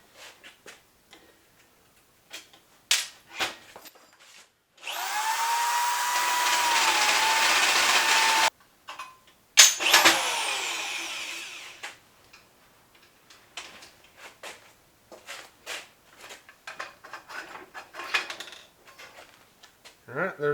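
Tube notcher machine cutting roll cage tubing for a K5 Blazer build, a loud steady grinding burst of about four seconds, a short pause, then a second cut that fades out, with scattered clicks and taps before and after.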